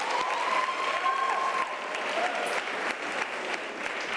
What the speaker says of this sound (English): Can you give yourselves a round of applause as we conclude?